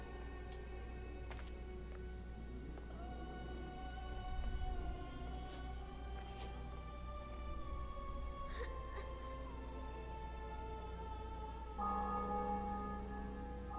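Bells ring in the video game The Witcher 2, sustained resonant church-bell tones layered over a steady low hum, with several fainter strikes and a brief overlapping voice, moderately quiet throughout.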